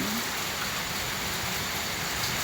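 Steady, dense night rain hisses evenly throughout, a constant wash of falling water with no voices.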